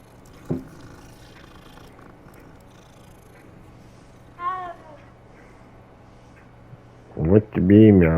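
A cat in the video game Hogwarts Legacy meows, with one short mew in the middle and then a louder, drawn-out meow near the end, over a quiet game backdrop.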